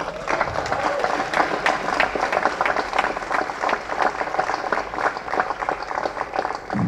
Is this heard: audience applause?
yes